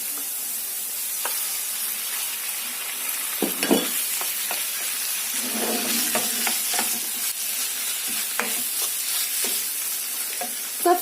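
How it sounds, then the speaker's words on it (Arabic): Small diced chicken pieces fry in a pan with a continuous moderate sizzle and hiss, punctuated by a few soft stirring knocks and scrapes, no voices. "غنزيد عليها الدجاج، انا قطعته هكا مربعات صغيره"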